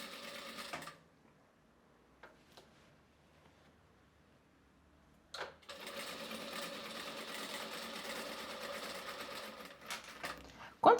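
A domestic sewing machine stitches the seams of a dress from the waistline upward, including a backstitch: a short whirring run, a near-silent pause with light clicks, then a longer steady buzzing run, faint and close.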